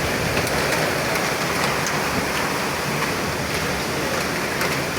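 Heavy night rain mixed with falling hail makes a thick, unbroken rushing wash, with occasional brighter clicks of hailstones on hard surfaces.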